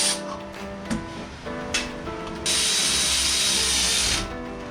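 A ratchet tool snugs up a gearbox part on a BMW E61 M5, heard up close as a few short clicks and then a loud, sustained whirring ratchet burst lasting about two seconds, with no talking.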